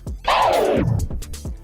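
A single slow forward scratch on a record, a dragged sample sliding downward in pitch, short and close.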